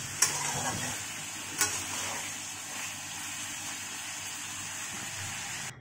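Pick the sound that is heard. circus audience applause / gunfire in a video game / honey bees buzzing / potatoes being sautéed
potatoes being sautéed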